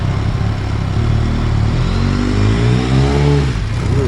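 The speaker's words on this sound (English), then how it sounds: "we're just going to get some exhaust testing on the Delkevic exhaust" A 2006 BMW K1200GT motorcycle fitted with a Delkevic exhaust revs nearby, a loud deep rumbling engine note that swells and climbs in pitch toward the end, heard alone without talk.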